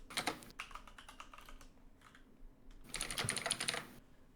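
Typing on a computer keyboard, quick bursts of close, crisp key clicks separated by a short pause, with no voices.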